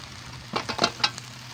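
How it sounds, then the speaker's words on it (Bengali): Fried mud crab pieces tossed into a pan for crab biryani and stirred, a few quick clattering scrapes and knocks over a low sizzle, close by. "এই যে ভাজা কাঁকড়াগুলো যে ছিল সেগুলো দিয়ে দেবো"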